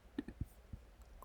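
Several soft, brief computer mouse clicks spaced unevenly within about a second, close and quiet with no talking.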